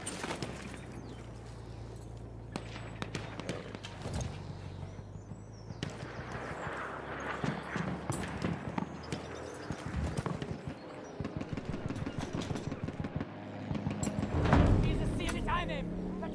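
Horse hooves clop and thud in Battlefield 1 as a mount moves off amid battle ambience, rhythmic beats building toward a louder burst near the end, with in-game voices shouting over the action.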